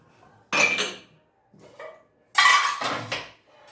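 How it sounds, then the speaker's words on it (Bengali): Clattering metal pots, pans and dishes during household washing, in two loud bursts of scraping and clinking separated by a quieter knock, close and with no talking. "বাসনগুলো ধুয়ে নিই"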